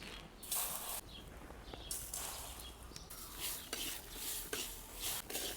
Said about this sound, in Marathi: आपण हे धुवून घेतले तांदूळ टाकून घेऊ कढईत आपल्याला तांदूळ भाजून घ्यायचे